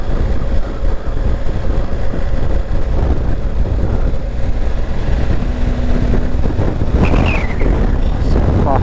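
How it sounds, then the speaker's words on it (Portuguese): A gust of wind buffets a motorcycle riding on the loose gravel of Ruta 40 in Argentina. It makes a loud, steady roar of wind and rumble that fills the whole stretch, with no talk. "Rajada de vento. Não sei se vocês ouviram aí,"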